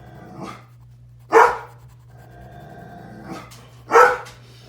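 A dog pants and fidgets indoors, giving two louder huffing bursts with softer breathy puffs between them, against a faint steady hum.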